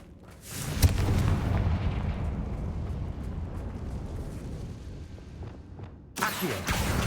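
The Confringo blasting spell goes off in the Hogwarts Legacy video game with a heavy booming explosion that rumbles and fades over several seconds, followed by a second sharp burst near the end.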